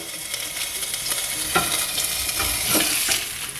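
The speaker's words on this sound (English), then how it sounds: "I like to crisp up the fat as well." Pork chop fat crisps in a hot pan with a continuous close sizzle and crackle, plus a few stirring or shifting scrapes, and no voices.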